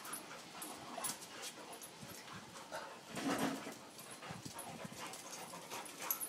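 Two dogs play-fight nearby, panting, whimpering and yipping in bursts, with scuffling and quick growly scrambles rising and falling close up.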